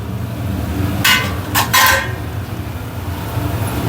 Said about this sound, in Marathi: चला आता आपण झाकण उघडून बघूया